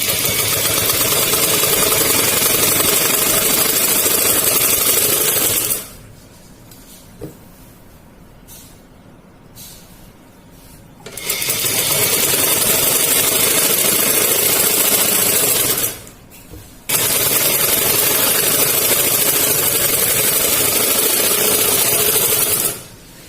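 A sewing machine stitching a salwar, running in long loud continuous bursts with a steady mechanical whir, stopping twice for several seconds of quieter pauses before resuming.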